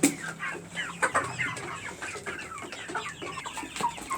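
A group of chickens clucks continuously as they gather around food, overlapping soft clucks and chirps heard close up with no talking.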